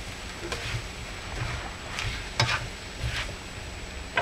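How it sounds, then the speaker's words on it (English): Rice vermicelli with prawns and vegetables stirred in a pan with cream, giving a soft, steady sizzle broken by a few light scrapes and clinks of the utensil, ending in a louder scrape. "Just give it a good stir."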